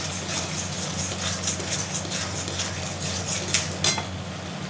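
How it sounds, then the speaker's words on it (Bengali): A spatula scrapes and clinks steadily against a pan while egg curry is stirred with salt, turmeric and roasted cumin-coriander powder. The sound is close and continuous, with no talking. "এবার নাড়বো"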